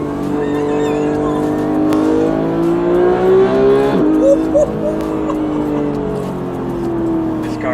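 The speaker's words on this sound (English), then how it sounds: "I'm gonna do downshift" Porsche 911 flat-six engine, a GT3 or Turbo S with PDK gearbox, revving high and blipping loudly through a downshift, its pitch sweeping up and down over several seconds, close and continuous with a sharp change near the middle.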